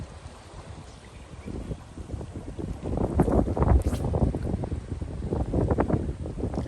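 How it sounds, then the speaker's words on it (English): Breeze gusting over a river during fly fishing with a euro nymphing rig, a steady low rushing wind that swells louder midway and stays strong, with buffeting on the microphone and faint water beneath. "there goes the breeze"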